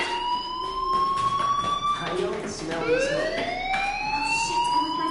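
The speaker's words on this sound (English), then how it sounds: "do you hear that fire alarm?" A steady electronic fire alarm tone in the video game Life is Strange wails continuously, rising and falling in pitch over a low background hum, sounding synthetic and slightly muffled.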